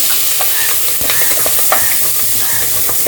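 Sliced onion and curry leaves frying in oil for mutton kulambu, a loud steady sizzle with scattered crackles and stirring scrapes throughout.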